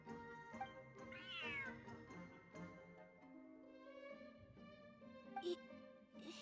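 A cat meows in the Genshin Impact video game, with a clear rising meow near the start and softer mewing later, over quiet game music and background tones.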